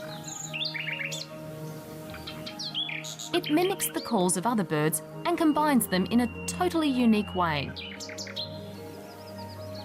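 A nightingale sings a rich, varied song, mimicking calls of other birds: fast trills, whistles and rising and falling phrases, loud and close, while a narrator's voice continues over it.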